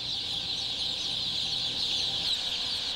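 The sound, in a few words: many chicks chirping in a poultry house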